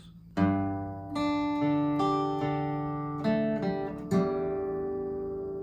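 A guitar plays the intro section of a song, sounding out a series of clear plucked notes and chords, each ringing out and decaying, with about six attacks in a slow, even rhythm and no voice.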